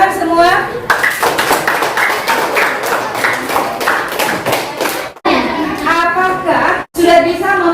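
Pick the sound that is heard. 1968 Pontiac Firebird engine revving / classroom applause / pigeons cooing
classroom applause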